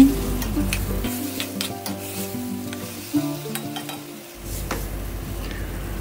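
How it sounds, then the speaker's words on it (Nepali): Tomatoes with chili, turmeric and salt are stirred in a sizzling pan, with repeated scraping strokes of a utensil against the metal over a close, steady frying hiss. "अब थोरै बेसार स्वाद अनुसार नुन हालेर मजाले चलाउने"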